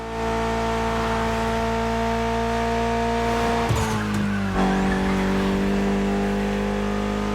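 Mitsubishi inline four-cylinder engine of about 280 horsepower in the racing game The Crew Motorfest, a sustained steady drone that shifts pitch midway with a brief tire squeal, loud and close with no talk.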